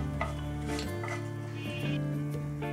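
Vermicelli stirred and fried in hot ghee in a frying pan with bay leaf, cardamom and cinnamon, giving a steady close sizzle with light scraping and pan clatter throughout.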